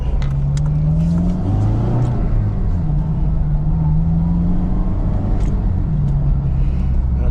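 A manual transmission car's engine hums steadily from inside the cabin, its tone rising and falling as the driver works through the gears, with no talk.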